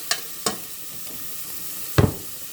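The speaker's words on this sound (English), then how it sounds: "Okay, so we're gonna continue saute this." Garlic and onions sautéing in a pan, a quiet sizzle broken by a few sharp utensil scrapes and clanks, one louder stir near the end, no voices.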